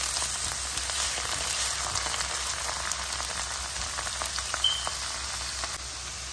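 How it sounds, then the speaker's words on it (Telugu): Onion pieces frying with ginger garlic paste and curry leaves in hot oil, a steady close sizzle and crackle that runs unbroken with small pops throughout. "ఇది గోల్డెన్ బ్రౌన్ వచ్చే వరకు ఉల్లిపాయ ముక్కలు వేగాలి."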